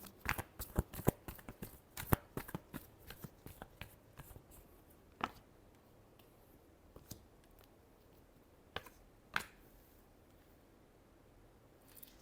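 Tarot cards being shuffled up close, a quick run of crisp riffling snaps at first, then sparser single flicks and taps, quiet and alone with no talking.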